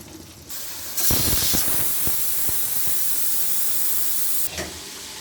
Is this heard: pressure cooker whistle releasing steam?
yes